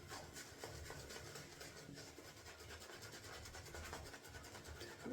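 A shaving brush scrubs soap lather across a face in a soft, continuous close-up rubbing and scratching rhythm, fairly quiet and without talk.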